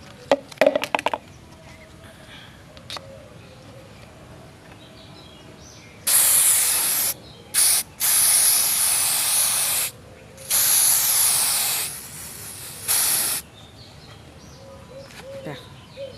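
Spray paint is applied lightly in several hissing bursts of varying length, some brief and some a couple of seconds long, with quiet gaps between them.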